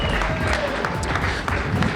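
An audience at a gaming tournament claps for the second-place finisher, a steady, moderately faint patter of applause from a mid-sized crowd.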